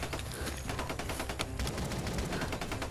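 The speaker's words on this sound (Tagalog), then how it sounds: "Dami mga putok mga kaidol." Dense video game gunfire, rapid automatic bursts rattling almost without pause, loud and close, alone with no talk.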